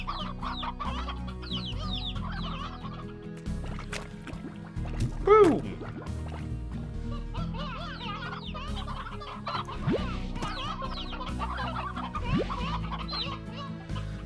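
Chickens cluck in the video game Slime Rancher, a busy, continuous chatter of clucks, with one louder squawk near the middle, over a low game background hum.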